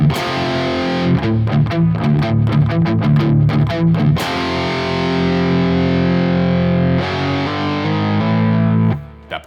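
A distorted electric guitar plays a riff with quick, rhythmic picked chord stabs that give way to a long, ringing sustained chord, loud and alone, without any talking.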